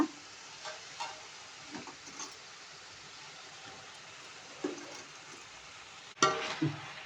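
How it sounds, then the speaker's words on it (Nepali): Pasta goes into a pan on a quiet stove: a faint, steady sizzle with occasional soft clinks and scrapes, then a sharper clatter and rustle near the end as the pasta drops in. "अब यसमा मैले हाल्छु पास्ता।"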